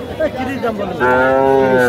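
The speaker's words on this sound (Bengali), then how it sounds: "এটা একটা ষাঁড় বাচ্চা" A bull calf moos loudly and close by at a village cattle market, a wavering call that swells into a long, steady bellow.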